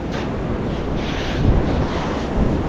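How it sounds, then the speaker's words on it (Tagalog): Seashore waves and wind on a beach: a steady, loud rush of surf and wind buffeting the microphone, with slight swells, and no voices. "maglalakad-lakad kami dito sa tabing dagat"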